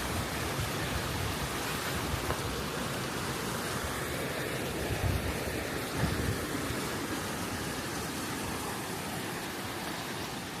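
A waterfall and stream beside the Bordner Cabin in Swatara State Park, Pennsylvania, produce a steady, loud, unbroken rush of water that fills the whole scene, with no voices.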